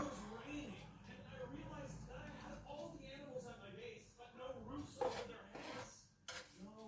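Plates and cutlery clink and clatter at close range while anchovy sambal is served in a home kitchen, the dish sounds coming in scattered bursts beneath a voice talking almost throughout.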